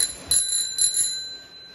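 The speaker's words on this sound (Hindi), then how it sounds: "और ये घंटी तो उसमें पहले ही थी।" A bicycle bell on a new 21-gear bicycle rings twice in quick bright bursts, close and clear, with a ringing tail fading afterward.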